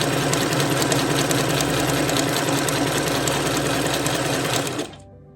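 A vintage White sewing machine runs a zigzag stitch, a loud, steady mechanical whir and rapid rattle close up, stopping abruptly near the end.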